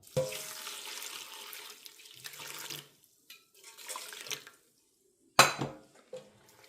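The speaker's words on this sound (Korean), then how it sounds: "누룩 200g을 섞고 좀 따뜻한 물을 여기다 부어줍니다" Warm water splashes in bursts into a bowl of nuruk and rice for dongchimi, with short pours separated by pauses and a sharp clink of a dish near the end.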